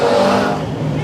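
An engine on a turbocharged LS-powered street race car at a Swedish street car event revs in a loud, close, sustained roar that eases off slightly near the end.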